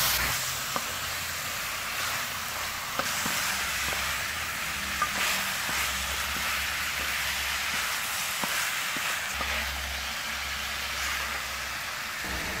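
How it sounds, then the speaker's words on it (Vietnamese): Chicken stir-fried with lemongrass and chili in a pan gives a steady, dense sizzle that runs throughout, with occasional light clicks and scrapes from stirring and no talk. "Mình cứ xào như vậy đến khi thấy thịt gà sang lại là được nha."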